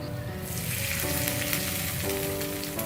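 A steady, close sizzle of spices crackling in hot oil, continuous and bright throughout, with no talking.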